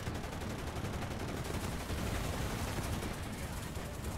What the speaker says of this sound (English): Oh wow, we are being proper strafed.